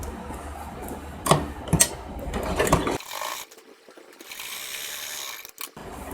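A sewing machine stitches a seam on a princess cut blouse with a close, uneven mechanical rattle and clicking ratchet-like ticks, followed by a quieter stretch of faint handling noise.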